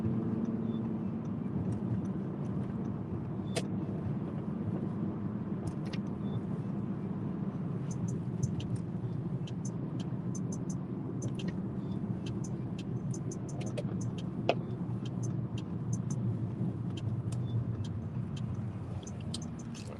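A car drives along a road, its low steady engine and tyre rumble running continuously, with small clicks and ticks from inside the cabin and no speech.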